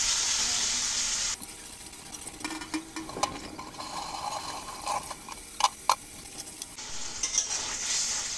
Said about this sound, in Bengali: এখন একটা তেজপাতা দেব আর আলুগুলো দিয়ে আলুগুলো আর মশলা একসঙ্গে ভালো করে কষিয়ে নেব